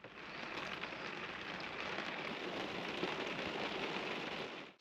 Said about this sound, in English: Started pouring with rain.